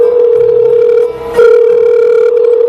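Steady telephone dial tone heard while a mother phones her son, one continuous loud tone with a short dip in the middle, alone with no talking.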